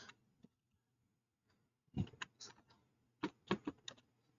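Keystrokes on a computer keyboard while entering a search for flexible HVAC duct during AutoCAD drafting work: a few scattered taps early, then quick irregular clusters of clicks, close and fairly quiet, with no talking.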